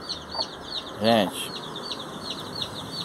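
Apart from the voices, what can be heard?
hen clucking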